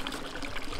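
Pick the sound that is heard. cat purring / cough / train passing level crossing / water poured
water poured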